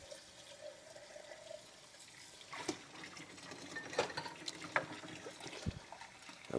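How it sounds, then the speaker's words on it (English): Tap water runs and trickles into a kitchen sink while dishes are rinsed by hand, a faint steady stream broken by occasional clinks and splashes from cups and a colander. "letting the excess water drip on to these dishes that need to be rinsed"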